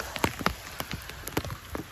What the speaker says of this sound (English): Look, the rain is coming down good.